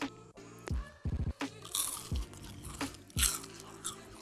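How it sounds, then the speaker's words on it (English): Homemade chili croutons being bitten and chewed close up, with several sharp crunches followed by a run of loud, dry crackling chews, no talking. "Chili crunch check."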